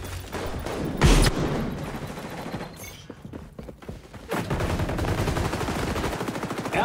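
Gunfire in the video game XDefiant, with rapid automatic bursts, a sharp blast near the first second and more continuous shooting in the second half, loud and close against game effects.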